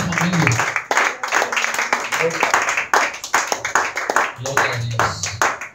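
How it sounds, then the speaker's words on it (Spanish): A church congregation claps hands as an offering to Jesus during a home worship service, a dense stretch of rhythmic applause mixed with talking and exclamations over it. "Démosle ofrenda de palmas a Jesús por este hogar y por esta familia."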